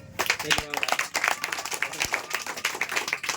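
Scattered clapping from a group of young schoolchildren rewarding a classmate's correct answer, uneven and moderately loud with a couple of sharp thumps and voices mixed in.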